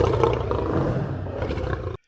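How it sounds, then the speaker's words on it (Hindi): A lion roars in one long, loud, rough sustained call that cuts off abruptly, close and unaccompanied. "जंगल के राजा शेर की।"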